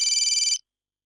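A phone for an incoming call rings briefly with a loud electronic warbling tone that pulses rapidly for about half a second, then cuts off into silence.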